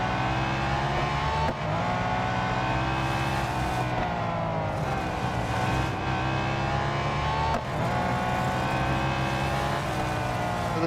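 Race car engine in the mobile game Real Racing 3, a loud continuous drone that climbs and drops with gear shifts and braking into corners, close and dense throughout with no voice over it.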